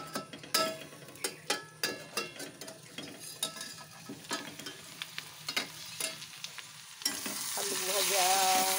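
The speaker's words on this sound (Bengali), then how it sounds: "আর আলু ভাজা কতটা হয়েছে দেখি।" Potatoes fry in a pan and are stirred, the spatula scraping and tapping in a steady rhythm over soft sizzling; near the end the stirring stops and a louder, continuous hiss of frying takes over.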